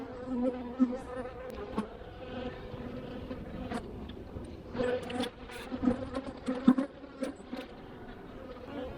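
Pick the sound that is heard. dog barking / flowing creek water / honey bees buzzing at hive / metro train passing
honey bees buzzing at hive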